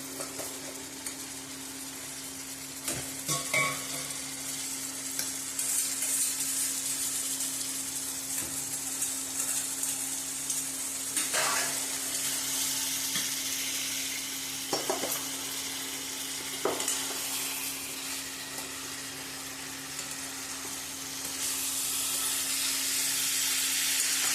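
Spiny gourd (kantola) frying in a pan for a Gujarati stuffed kantola curry, giving a steady, close sizzle and hiss that swells toward the end, with a few soft stirring clicks and no voices.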